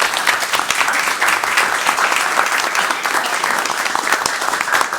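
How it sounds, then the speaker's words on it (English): Board of education meeting attendees applauding a retiring educator, a sustained, fairly loud round of clapping from a seated crowd, steady throughout with no talk over it. "So I want to give her a round of applause."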